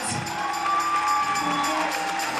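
An audience applauds and cheers for a youth group performing with a singer, a dense, steady wash of clapping and excited shouts filling the whole moment.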